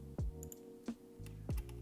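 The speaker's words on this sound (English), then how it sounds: "you can use arrow buttons on your keyboard to move patterns" Arrow keys on a computer keyboard are tapped three times at a steady, unhurried pace, each press a short, close, distinct click over a quiet background with a faint hum.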